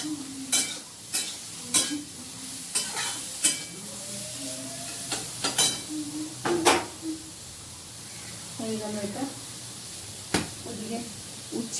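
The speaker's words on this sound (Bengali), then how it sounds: "মশলাটাও কষিয়ে নিচ্ছি" Spices stir-fried in a pan for a fish curry, with repeated sharp scraping strokes of a spatula over a low sizzle, while a voice talks intermittently close by.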